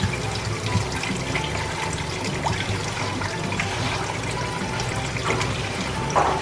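Water runs steadily from a broken, leaking fixture, a constant splashing trickle heard up close with a few faint knocks and clicks.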